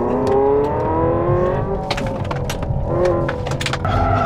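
A Hyundai Ioniq 5 N race car with drift optimizer engaged pulls away from a standing start on a race track, giving a loud, rising synthetic drive whine that climbs steadily in pitch, with bursts of tire and mechanical noise toward the end.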